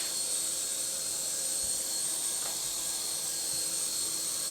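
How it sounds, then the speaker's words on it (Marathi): A toy helicopter flies nearby, its small rotor motor giving a steady, high-pitched whine with a constant hum and no pauses. "हेलिकॉप्टर उडाला आमचं फायनली."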